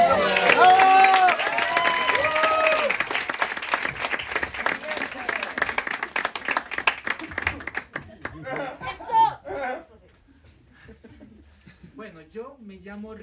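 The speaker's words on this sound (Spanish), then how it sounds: "¡Aplausos!" An audience at an audition applauds and cheers loudly with lively crowd chatter, then the clapping drops away and a single voice speaks closely in a quieter room.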